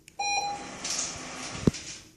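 A Treat & Train dog training machine gives a single clear electronic beep, close and moderately loud, followed by a brief clatter in a quiet indoor room.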